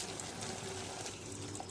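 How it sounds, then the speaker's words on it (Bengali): Water poured into a pan of fried spices, tomato, sugar and salt for an okra curry with mustard and poppy seed, giving a steady close hiss and trickle that stays even throughout. "এবারে জল দিয়ে দেবো।"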